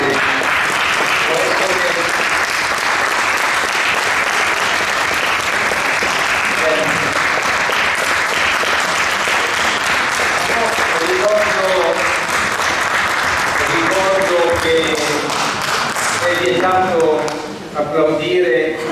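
Audience applause fills a town council meeting in Chioggia, a dense sustained clatter of many hands, with voices talking and calling out beneath it as the clapping thins near the end.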